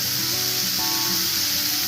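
Spices and vegetables sizzle in a hot pan for a Bengali vegetable dish, a steady bright hiss with a faint tonal hum underneath.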